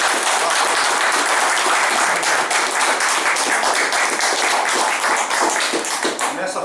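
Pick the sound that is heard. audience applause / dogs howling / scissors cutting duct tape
audience applause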